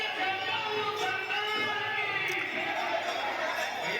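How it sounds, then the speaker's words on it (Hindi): Dense, steady murmur of a large crowd at the Saipau Mahadev temple fair, a continuous wash of many voices and chatter without any single standout sound. "भीड़ बहुत ज़्यादा है"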